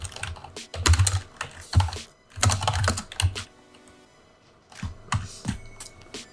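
Keys clatter on a computer keyboard as a command is typed for a Minecraft mod, quick bursts of close, crisp keystrokes separated by short pauses, with no talking.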